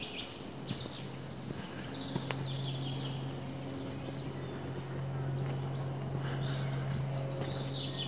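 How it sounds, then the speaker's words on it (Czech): Birds sing faintly around a quiet forest pond, with scattered chirps and short calls over a soft, steady low hum of distant background noise. "jak tady jsou slyšet ty ptáci kolem, to je super."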